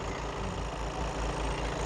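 A Volkswagen Tiguan second-generation 2.0 TDI 4Motion diesel engine idles steadily, a close, even low rumble with a regular throbbing pulse and no voices.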